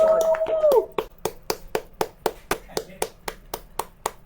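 Clapping in a recognition ceremony honoring special achievers, beginning under a spoken voice, then settling into a steady run of about fourteen evenly spaced, crisp claps that sound like a small group or a single pair of hands.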